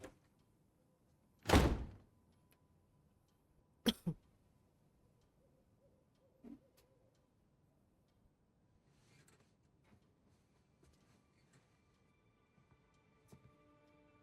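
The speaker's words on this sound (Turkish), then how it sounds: "O neydi fazla kapı kapanma sesi mi?" A door swings shut with a single loud thunk in Uncharted 4, followed by a second sharper knock, then quiet ambient game sounds with faint scattered clicks.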